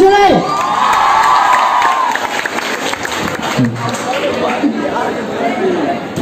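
An audience in Comilla, with children among them, cheers, whoops and shouts loudly right after a song performance, a sustained crowd roar that fades slightly but stays busy throughout.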